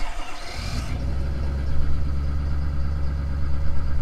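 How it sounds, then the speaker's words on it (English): A car engine runs at a raised cold-start idle, a steady low drone with a faint rhythmic pulse that holds close and even for several seconds after a brief noisy start. "High idle."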